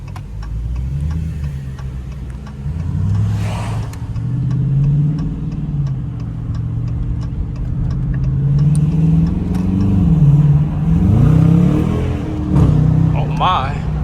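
A 2021 Dodge Challenger R/T's engine drones and pulls steadily under acceleration on a wet road, a continuous low rumble rising and falling in pitch throughout, with tire hiss and faint interior ticking.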